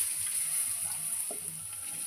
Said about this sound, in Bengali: এইবার মাছের আলু ভাজছি